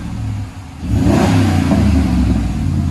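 Deep, loud exhaust note from a 2020 RAM 1500 5.7L HEMI V8 fitted with Flowmaster 40 Series dual exhaust, idling briefly then revving up and holding a heavy, rumbling roar nearby.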